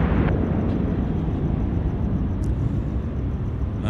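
A Cathay Pacific airliner takes off at night at Sydney Airport, its engines a loud, steady broadband roar that holds for the whole stretch with no voices.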